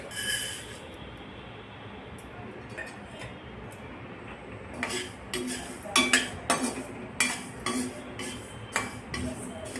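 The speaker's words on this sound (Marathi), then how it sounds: "आता आपण मूग डाळ भाजत आहोत।" Moong dal being dry roasted in a pan, with faint scattered ticks and clinks of a spatula scraping and stirring, growing louder and more frequent in the second half, no voices.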